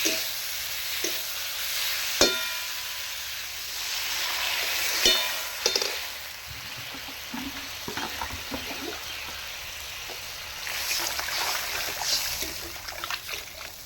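Water poured into a pan of frying mung dal and green banana for a Bengali curry: near sizzling and scraping with sharp bursts of hissing, settling into a softer, steady bubbling simmer, with no speech.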